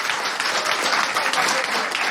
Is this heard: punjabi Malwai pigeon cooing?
no